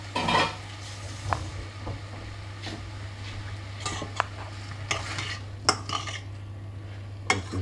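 Peppers and tomato coulis stirred in a pan, with scattered scrapes and knocks of a utensil against the pan over a faint sizzle and a steady low hum; no one speaks.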